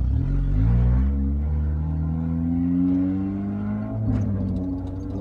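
A Mitsubishi Eclipse's engine revs while the clutch is engaged, a close, loud rumbling drone whose pitch rises and wavers over several seconds before settling, with no voices over it.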